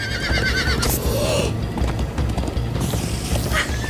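A horse neighs while galloping in Minecraft Story Mode, a loud whinny over steady clip-clopping hooves and rushing noise, with no talking.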